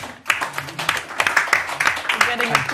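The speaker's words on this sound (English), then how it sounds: "Getting applause for the introduction." Audience applause following an introduction at a climate-justice talk evening, a steady patter of clapping across the whole stretch, with talking mixed in underneath.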